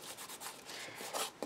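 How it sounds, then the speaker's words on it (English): Double-sided tape burnished firmly onto paper for a scalloped square memory book, a close, soft continuous rubbing and scraping with a couple of sharper swipes near the end. "And then burnish really well, just to make sure that it's stuck."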